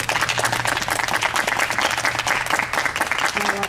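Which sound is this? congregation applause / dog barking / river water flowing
congregation applause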